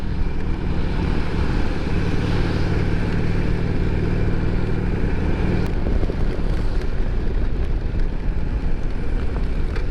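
A motorcycle without ABS, ridden gently, makes a continuous close engine drone mixed with road and wind noise. It holds steady for the whole stretch, and no one speaks over it.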